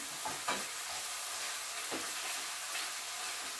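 Garlic sautéing in a pan for a beef stir fry, a soft, even sizzle broken by a few short stirring scrapes, fairly quiet with no voices.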